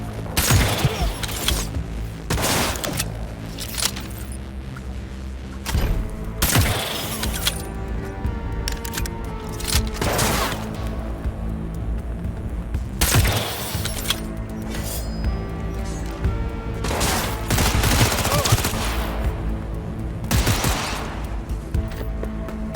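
Sustained gunfire in a Cyberpunk 2077 firefight: bursts of automatic weapons and single shots, loud and dense throughout, with booming impacts and metallic clinks, with occasional shouted voices mixed in.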